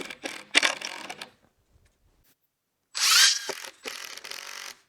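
A power drill drives 1.5 inch screws into a wooden fence gate in two short, close, whirring bursts, separated by a quiet pause with light handling sounds.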